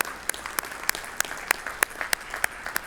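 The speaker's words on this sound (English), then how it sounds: "Yes, that deserves a round of applause." Sparse, widely spaced claps from a small audience at a church general conference, sharp isolated hand claps at a slow, uneven rhythm, fairly faint.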